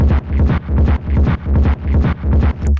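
Heavily distorted, overdriven Schranz techno drum loop run through an auto filter with boosted resonance, thick low rumble, pulsing in short busy bursts that repeat about every half second.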